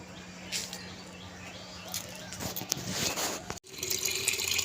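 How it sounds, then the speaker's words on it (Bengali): Water runs steadily from a tap into a container for watering plants, a continuous splashing hiss that cuts off briefly near the end before resuming. "জল ভরছি, গাছে জল দেবো।"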